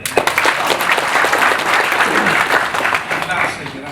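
A gathered group applauding at an outing to Malang, lively dense clapping close by with some voices mixed in beneath it, fading slightly toward the end.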